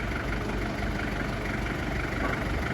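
Diesel engine of a TCM FD25T3C forklift idling steadily, a continuous close rumble with no talk.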